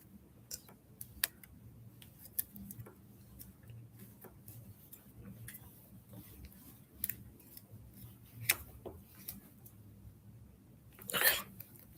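Scissors snip through the wires of a LAN network cable, a series of sharp, separate clicks and cuts, close and fairly quiet. There are long gaps between the cuts and a louder snip near the end.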